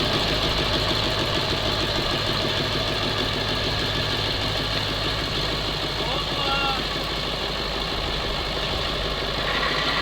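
A Monster Max off-road truck engine drones steadily and loudly on boggy peat terrain, a continuous low rumble with knocking texture throughout, with voices shouting over it.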